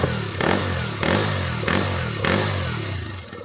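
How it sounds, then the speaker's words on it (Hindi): A TVS Raider 125cc motorcycle on its stock exhaust revs in four repeated blips, each a swell of engine roar settling back to a steady mid-pitched idle, close and loud with no talk. "तो दोस्तों ये कुछ स्टॉक साउंड की आवाज़ है"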